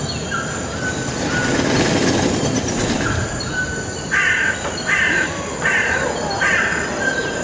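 Crow-like caws from a large black corvid, four harsh calls repeating at an even pace over steady background noise with a faint rumble, fairly close and moderately loud.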